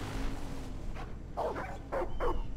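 Dog in Far Cry 5 barking a few times, short quiet yips in a cluster at a moderate distance over low game background noise.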